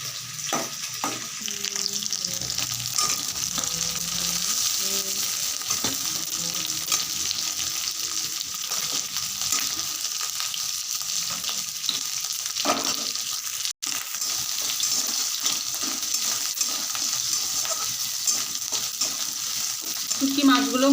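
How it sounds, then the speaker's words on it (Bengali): Dried fish frying in a pan gives a steady, close sizzle with the occasional stir, continuing evenly throughout with no talking. "শুটকি মাছগুলো মোটামুটি ভাজা হয়ে গেছে"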